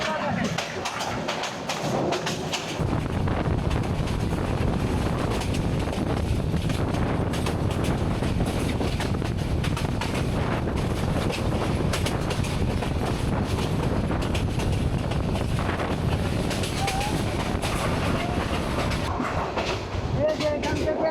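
Tista Express train running through countryside, heard from an open window: a loud continuous rumble and rattle of wheels on rails with wind buffeting, rising after a quieter opening, with a voice talking over it.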